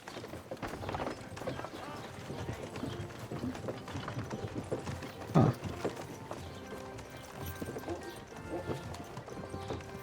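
Horses clip-clop through a medieval setting in the video game Kingdom Come Deliverance 2, their hooves a busy, continuous patter that carries on under faint voices and ambient noise.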